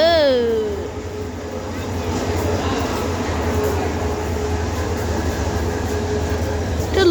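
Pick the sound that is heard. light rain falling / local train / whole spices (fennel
local train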